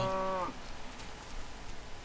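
A Minecraft cow gives one short, clear moo at the very start, then only faint game background ambience follows.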